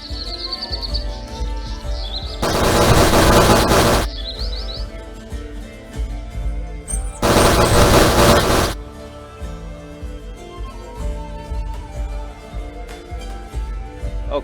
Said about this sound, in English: I can tell I'm still hurting them because I can hear all those explosions.